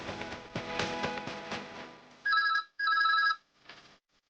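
A telephone rings in two loud, steady electronic bursts followed by a fainter third ring, after a stretch of music, as a call is placed to a bank.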